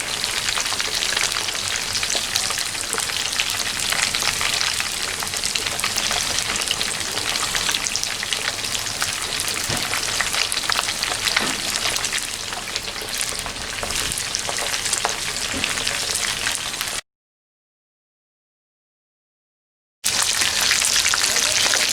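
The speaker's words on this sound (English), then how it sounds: "So once again, this is an authentic Jamaican fish fry." Whole fish, unfloured, frying in pepper-seasoned oil over an open fire for a Jamaican escovitch fish fry: a loud, steady, dense crackling sizzle that runs unbroken, cuts out briefly near the end, then resumes.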